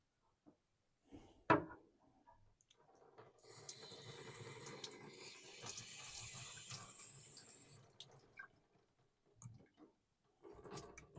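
A straight razor, a Wade & Butcher with a French black shadow, is stroked across a wet sharpening stone in a steady run of soft scraping passes, near and quiet, between a few clicks and handling noises.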